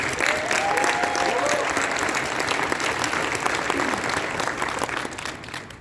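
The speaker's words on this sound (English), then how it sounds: "one more round of applause for Jack, please." A crowd applauds steadily, dense clapping holding at an even level before easing slightly at the end.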